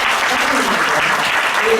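Church congregation applauding during a Sunday worship service, a steady dense wash of clapping that fills the whole stretch at even strength.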